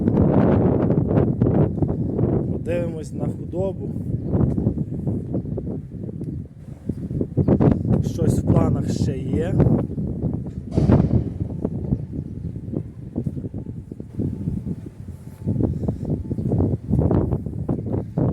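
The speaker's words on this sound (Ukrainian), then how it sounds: "Погода вітряна, це трошки є перешкодою." Strong gusting wind buffets the microphone throughout, a constant low roar, while a person speaks briefly over it outdoors on a farm with cows and sheep.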